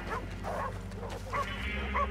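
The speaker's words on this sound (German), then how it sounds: "Ich höre noch mehr Gebell von hier." Dogs bark and yip in Red Dead Redemption 2, a cluster of short, overlapping barks and whimpers at middle distance over a steady low rumble of game ambience.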